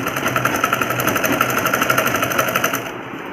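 A domestic sewing machine stitches trouser fabric with a buckram strip, a close, loud, fast rhythmic whirring and clatter running steadily before stopping abruptly at the end.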